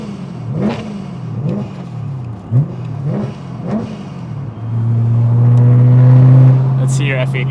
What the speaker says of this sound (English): simply because of the glorious sound of the S65.